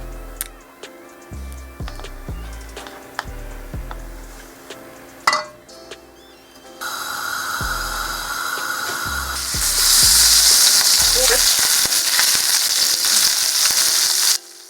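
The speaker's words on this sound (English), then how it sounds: "The most annoying thing about frying things is that the butter / oil always somehow flies and splashes me" Hot butter or oil sizzles and crackles steadily while frying food, growing louder and hissier partway through, with scattered clinks and taps of utensils over it.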